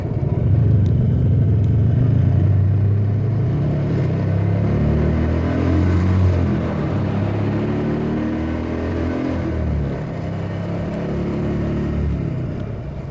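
A Royal Enfield Classic 350 motorcycle accelerates slowly, its steady low engine rumble droning close and continuous as it builds speed lazily, with a gradual rise in pitch.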